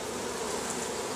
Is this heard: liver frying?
no